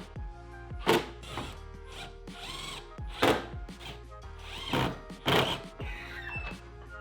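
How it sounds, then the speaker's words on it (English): A power drill bores into a BMW M3 Competition while carbon fiber parts are fitted, coming as several short, loud whirring bursts over a low steady hum. "Let's drill into my M3 Competition"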